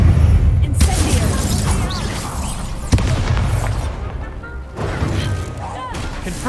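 Incendio fire spell cast during a duel in Hogwarts Legacy, a dense roaring burst of flame and crashing impacts that swells and surges, loud and continuous, with game voices mixed in.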